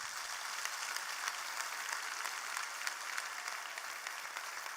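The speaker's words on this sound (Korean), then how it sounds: "우리 청년들한테 박수 한번 쳐주십시다." A church congregation at a New Year's Eve service applauds its young people, a steady wash of many hands clapping together at even volume for the whole stretch.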